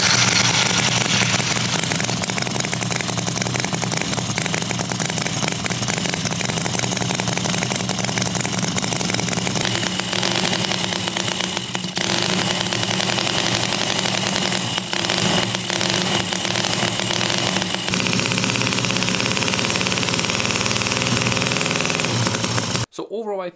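A miniature V-twin model engine runs continuously with a fast, throbbing idle, loud and close, shifting pitch slightly midway before cutting off abruptly.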